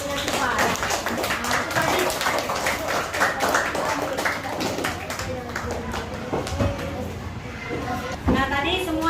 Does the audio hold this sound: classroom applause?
yes